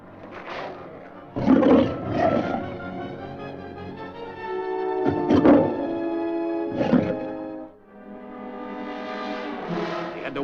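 A roped mountain lion roars and snarls in several loud, close, drawn-out bursts separated by short pauses, with no talk.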